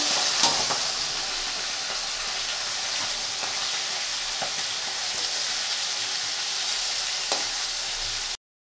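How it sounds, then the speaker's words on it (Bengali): Prawns frying in hot oil in a wok, a steady close sizzle with occasional crackles and pops running throughout, no talking. "তো আর এক রাউন্ড ভেজে নিচ্ছি।"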